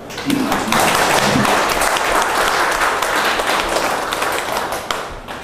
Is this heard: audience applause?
yes